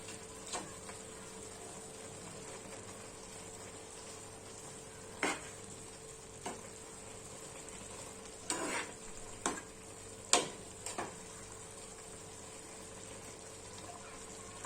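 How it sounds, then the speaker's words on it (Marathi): Carrot halwa mixture with ground cardamom stirred in a pan, soft scraping and a few sharp clacks of the spoon against the pan over a steady low hiss. "आता आपण हे मिश्रण चांगलं एकजीव काढून घेऊया."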